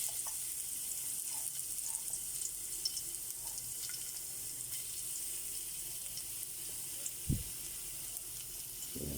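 Garlic sizzling steadily in a hot pan for sautéed bitter melon, a continuous close frying hiss with a brief clatter near the end and no talk.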